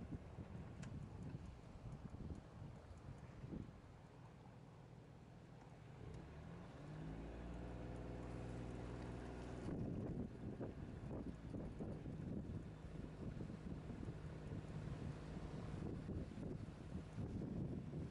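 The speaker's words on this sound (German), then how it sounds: "Der Wind drückt uns weg." Wind buffets a sailboat on a trip to Vlieland, a continuous rushing roar across the microphone with a low engine-like hum rising midway and gusty surges afterward.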